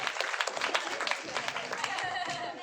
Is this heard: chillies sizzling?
no